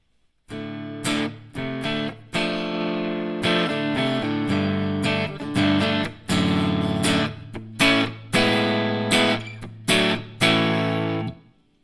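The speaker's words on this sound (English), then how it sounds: "Blue is going to be kind of a overdrive" Electric guitar played through the bridge pickup with an overdrive tone, a smart guitar setup: a series of loud, sustained chords and riffs struck repeatedly with short breaks between them, alone without talk.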